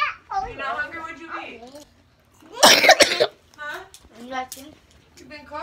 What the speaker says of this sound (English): You been coughing all day?